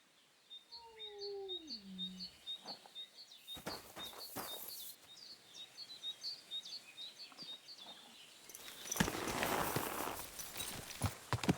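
Rhythmic horse hooves clip-clop steadily on a road in the video game Kingdom Come: Deliverance II, with birds chirping in the background and a few louder rustling bursts.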